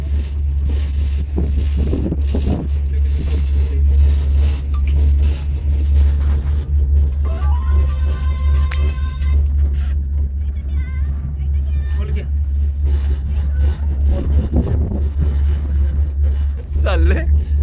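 Raigad ropeway cable car running along its cables high above a hill fort, a steady loud low rumble with creaks and scraping squeals from the cable gear, under continuous talk.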